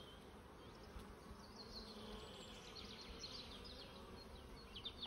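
Buckfast honeybees buzzing at an open hive during an inspection, a faint, steady, dense hum of many insects with occasional individual bees passing close.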